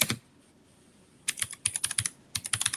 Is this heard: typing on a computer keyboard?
yes